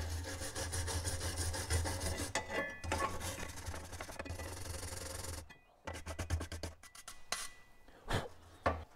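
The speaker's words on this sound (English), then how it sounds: "So you can use a nice wire brush. This is my welding brush. So you just want to descale that steel." Welding wire brush scrubbing rust scale off steel in rapid rasping back-and-forth strokes, close and steady for about five seconds, then a brief pause and several shorter scraping passes.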